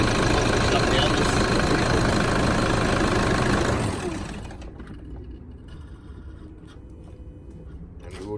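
A vehicle engine idles loudly and steadily at close range for about four seconds, then cuts out, leaving a quieter background hum with faint clicks.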